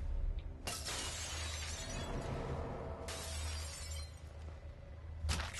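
Glass shatters in the video game Sniper Elite 4, with sharp broadband crashes at the start, partway through and near the end over a steady low rumble of game ambience.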